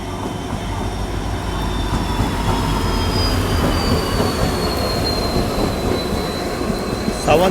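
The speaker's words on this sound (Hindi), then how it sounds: "सावंतवाड़ी रोड दादर तुतारी एक्सप्रेस आ चुकी है।" Tutari Express from Sawantwadi Road to Dadar rolls into the station, a loud, steady rumble of rail wheels with clickety-clack and drawn-out wheel squeal running throughout.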